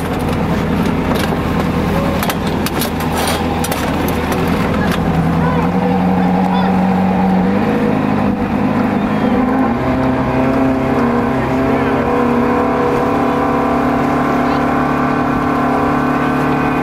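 A motorboat engine runs steadily on a lake, a continuous loud drone with pitch shifts as the throttle changes, with voices talking over it.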